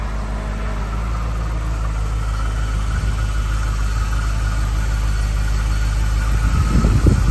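A 2010 Jeep Grand Cherokee SRT8 with its Hemi V8 idling, a steady low rumble that holds close and even throughout, with a slight rise in rough texture near the end.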